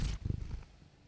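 A cat purrs up close in a short, low rumbling burst that fades toward the end, with no talking.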